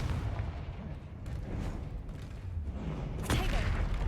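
Fire-blast Confringo spells in the Hogwarts Legacy game rumble through a steady battle din, a sharp loud burst near the end standing out above the continuous low roar of combat.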